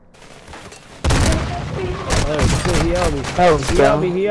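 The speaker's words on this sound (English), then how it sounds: "Somebody shooting at us from over there." Video game gunfire breaks out after a quiet moment, with loud shots and bursts going off repeatedly while people talk excitedly over them.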